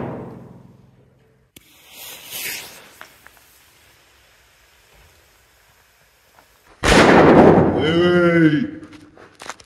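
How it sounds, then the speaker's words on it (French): Firecrackers set off by an instructor at dawn on a special-forces commando course: a muffled early pop, then a sudden loud, sharp blast, followed by someone shouting close by. "Et donc le matin, donc l'instructeur met des pétards pour nous Le réveiller."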